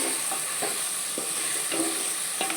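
Biryani ingredients with bay leaves frying in hot oil, a steady loud sizzle with soft periodic scrapes of a spoon stirring through them, no voices.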